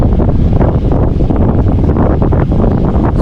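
Headwind batters the microphone on a bikepacking ride, a loud, continuous roaring buffet with gusty low-end rumble and no speech.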